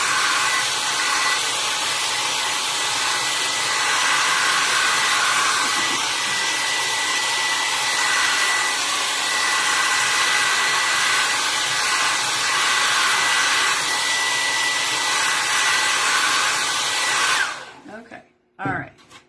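A hair dryer blows steadily on wet painted artwork for a long stretch, a loud continuous whir that cuts off abruptly near the end followed by a few handling knocks.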